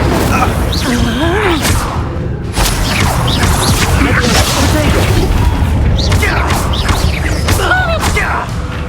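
Incendio fire spell cast during a chaotic Hogwarts Legacy battle, with booming, crashing bursts and whooshes layered over dense game noise, a voice shouting over it now and then.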